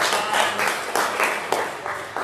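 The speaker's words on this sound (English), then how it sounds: "Can we give the Lord a hand clap of praise this morning?" A church congregation claps hands in praise during a morning service, a dense burst of many hands with uneven swells, fairly close and with no talk over it.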